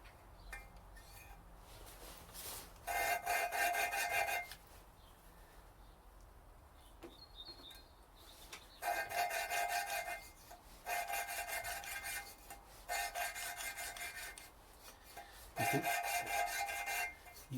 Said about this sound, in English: You can really quite hear the grind as well.